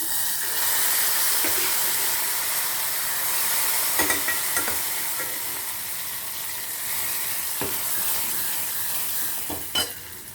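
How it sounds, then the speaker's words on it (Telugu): Garlic tempering sizzles steadily in a hot pan with stirring scrapes, then cooked toor dal and Ceylon spinach greens go in, adding a few soft thuds and clatters over the continuous frying hiss. "వెల్లుల్లిపాయ రబ్బలో అన్నీ వేగిన తర్వాత ఉడికించుకున్న పప్పు బచ్చల కూర ఇందులో వేసేద్దాం"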